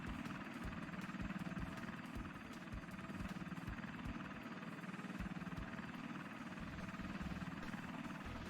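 A video-game helicopter in Mission: Impossible gives a steady, low rotor thrum with a constant engine drone, moderately faint and unbroken throughout, with no speech.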